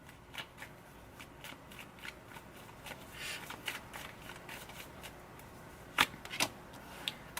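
Tarot cards being shuffled and drawn, with soft papery riffles and flicks followed by a few sharper snaps near the end, faint and close in a quiet room.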